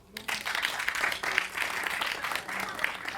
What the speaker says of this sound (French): Confirmé par applaudissement.